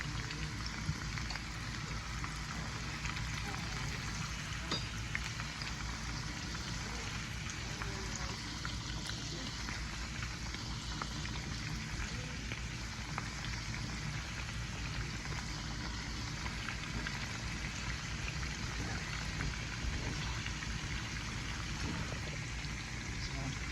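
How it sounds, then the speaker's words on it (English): Continuous soft crackling and sizzling hiss of potatoes shallow-frying in a pan, steady throughout without pause, fairly quiet and uniform. "just frying the potatoes."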